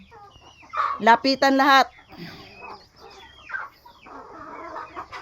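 Chickens in a rural provincial yard cluck and squawk in a short burst of loud calls close by, followed by softer scattered clucking, with a person speaking briefly.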